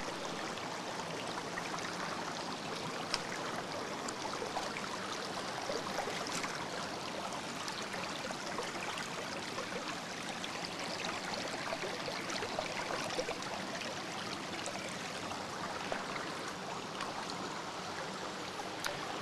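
A steady, moderately loud wash of stream water runs over stones, an even broadband rush that continues unbroken with no voices.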